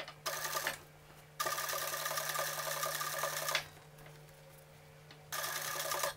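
Sewing machine stitching a seam along the overlocked edge of a polo shirt, running in three steady bursts of fast whirring with short pauses between them, close and clear.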